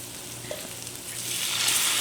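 Corn chip, cheese and salsa scramble with garlic powder sizzling and frying steadily in a pan, a continuous close crackle that grows louder and brighter toward the end, with no talking.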